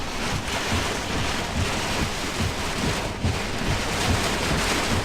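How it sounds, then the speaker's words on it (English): Strong wind drives heavy rain against a truck during a straight-line wind storm, a dense, continuous roar of rain and buffeting gusts filling the cab without pause, with no voices. "See how that wind is just carrying that rain?"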